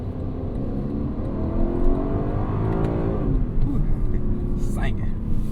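A Lexus LC 500 convertible accelerates after a downshift to first gear, its engine note climbing steadily over constant wind and road roar, heard loud from inside the car.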